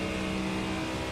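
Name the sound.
race car engine in the video game iRacing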